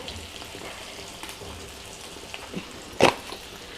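Baby potatoes frying in a pan make a soft continuous sizzle with light spatter, then one sharp scrape or clatter of stirring near the end, with no speech.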